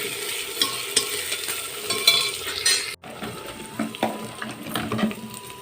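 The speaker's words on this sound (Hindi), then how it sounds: "अब इसको थोड़ी देर भून लेते हैं।" Garlic and onion sizzling in a hot pan for masaledar badi, with steady frying crackle and the scrape of a stirring spoon close by. There is a brief cut partway through.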